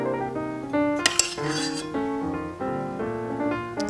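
A spoon clinks and scrapes against a dish while raspberry sauce is spooned over dessert, with a series of close, ringing metallic taps and short scraping strokes.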